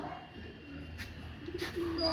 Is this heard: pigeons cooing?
yes